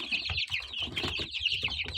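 Chickens and chicks cluck and cheep close by in a small indoor pen, a busy overlapping stream of high peeps over lower clucks with no talk.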